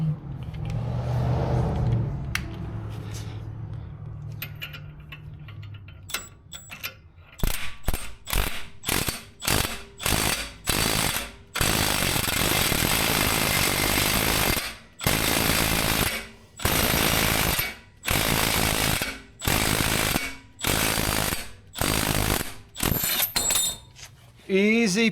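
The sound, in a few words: ball joint press tightened to push wheel studs through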